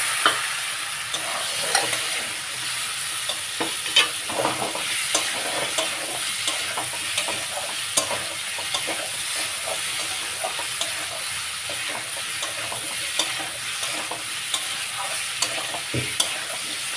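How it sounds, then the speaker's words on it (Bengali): Boiled papaya and potato sautéed with spices for a Bengali fish curry, with a continuous sizzle and frequent scraping and tapping of a spoon against the pan. "একটু কষিয়ে পেঁপেটা পেঁপে আলু ভালো করে এই মশলার সঙ্গে কষে নিলাম"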